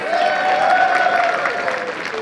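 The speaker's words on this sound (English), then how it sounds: "Guys, let's give it a round of applause for Angry Queen money." Steady applause from a comedy-show audience fills the whole stretch, a dense, even patter of clapping hands close by, with faint voices mixed into the crowd noise.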